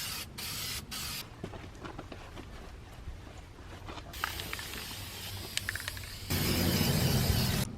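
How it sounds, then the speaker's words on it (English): Rust reformer sprayed from an aerosol can onto a boat trailer frame, a steady hissing spray in several bursts, close by, with a louder sustained spray near the end. "So I'm gonna use the rust reformer, add some more, get all the spots that I missed"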